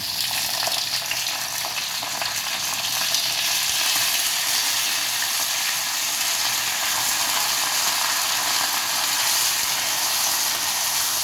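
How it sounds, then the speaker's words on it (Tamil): Sweet potato fries in a pan with browned urad dal, giving a steady, even sizzle and crackle that runs the whole time without pause, close and fairly loud, with no voices. "இப்போ இந்த சக்கரவள்ளி கிழங்கு இருக்கே அதை இதில் போடுறேன்."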